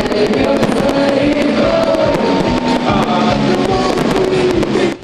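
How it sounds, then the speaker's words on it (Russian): Festival fireworks crackle and pop continuously over a steady crowd roar in Samara, dense bursts of bangs throughout, loud and sustained. "Завершился праздник красочным салютом."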